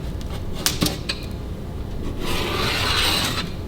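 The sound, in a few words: cutting deer meat pizza in pan without pizza cutter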